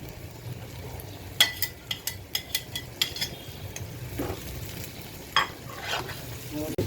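Pre-fried prawns dropped into a hot pan on raised heat, a continuous close sizzle with a series of sharp clinks and scrapes of a spatula or spoon against the metal.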